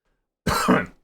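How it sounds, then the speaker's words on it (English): A single burst of coughing or throat clearing from someone in a room, close and fairly loud, starting abruptly after silence and lasting about half a second before trailing off. "I need to cough."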